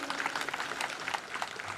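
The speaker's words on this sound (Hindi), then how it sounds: "जोरदार तालियां इनके लिए बजती रहनी चाहिए।" A steady burst of applause from a crowd at a police passing-out parade, dense and continuous clapping throughout.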